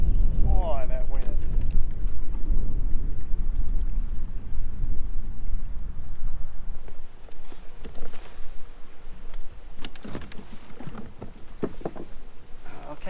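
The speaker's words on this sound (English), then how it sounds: "this is ridiculous wind here. It's really blowing." Strong wind roars across open water on Lake Lanier while bass fishing from a boat, with loud, steady gusty rumble and buffeting noise on the microphone that eases slightly toward the end.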